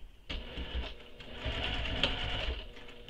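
A sewing machine runs steadily, stitching a seam on a handmade mini crossbody bag, a continuous close mechanical whir with a rapid needle rhythm from start to finish.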